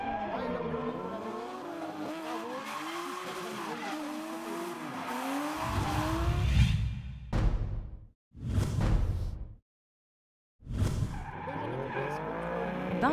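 A yellow Toyota Soarer drift car races through a drift championship round in Salbris, its engine warbling and tires squealing in long skids, then loud passes whooshing by with abrupt cuts between them.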